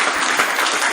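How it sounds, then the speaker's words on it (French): Short burst of dense audience applause for a gospel choir during a live TV broadcast, loud and steady for under a second. "Applaudissez quand même."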